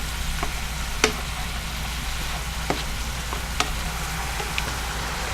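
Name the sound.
sausage frying in a pan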